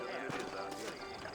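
Horse hooves clip-clop in Red Dead Redemption, a steady rhythm of hoofbeats running beneath game music and a voice over a short stretch.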